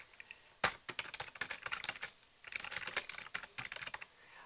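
Quick bursts of computer keyboard typing at close range, irregular keystrokes in short clusters with brief pauses, quiet and alone without speech.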